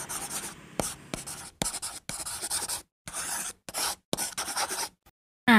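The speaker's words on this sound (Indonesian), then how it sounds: "itu tadi adalah suara pensil" A pencil writes on paper in short, close bursts of soft scratching, separated by brief pauses as strokes are lifted and restarted.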